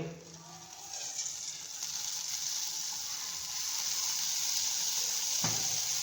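Oil heats in a pan on the stove for a chutney and gives off a soft, steady sizzling hiss that grows slightly louder. A brief knock sounds near the end, and no one speaks.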